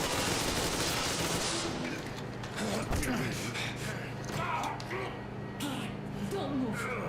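Rapid bursts of video game gunfire, including machine-gun fusillades, crackle continuously alongside a droning in-game hum, with players talking over much of the shooting.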